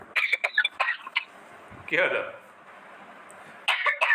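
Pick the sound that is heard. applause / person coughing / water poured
person coughing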